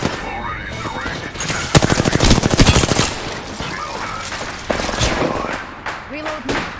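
Rapid automatic gunfire in a shooter video game, a loud burst of closely spaced shots mixed with scattered single cracks while players talk over it.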